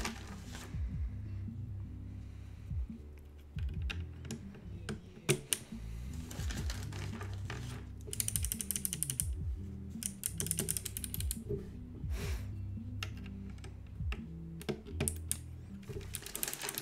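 Keys clack in quick irregular bursts on a custom mechanical keyboard, close and crisp, with brief pauses between runs of strokes and brighter sharp clicks on some presses, no voices.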